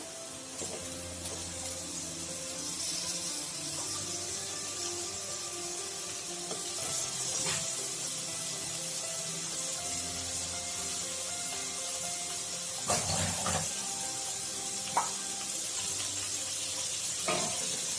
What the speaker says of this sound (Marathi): आता टाकणार आहे मी ह्या शेवग्याच्या शेंगा।